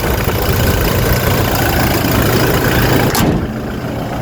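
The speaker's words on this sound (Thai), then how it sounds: "เสียงเครื่องยนต์" A 2017 Toyota Fortuner 2.8 V with about 144,000 km on it, its engine idling: a loud, steady, close rumble that drops off abruptly near the end.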